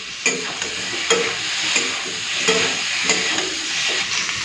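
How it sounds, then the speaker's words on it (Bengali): Tomatoes go into a pan of simmering fish curry, giving a steady sizzling fry broken by several sharp stirring scrapes, close and fairly loud with no talk. "এখন দিয়ে দিচ্ছি এই টমেটোগুলো।"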